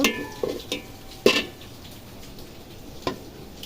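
Lentils, onion, garam masala and bay leaves frying in a pot for khichuri, a soft steady sizzle broken by a few clinks and scrapes of a stirring spoon on metal.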